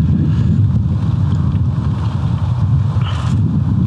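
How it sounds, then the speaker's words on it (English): Strong wind gusts buffet the microphone outdoors beside a carp fishing lake in January, a steady loud low rumble that carries through the whole stretch with no voices. "the wind's blowing and it's a little bit chilly"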